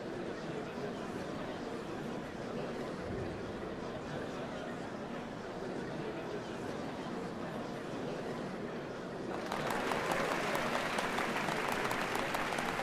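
A large crowd applauding at a ceremony for the changing of Dawn servants in the video game Final Fantasy XIV, a dense, continuous wash of clapping that swells louder near the end.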